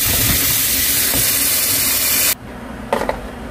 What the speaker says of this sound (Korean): 한번 요거는 헹궈줄게요.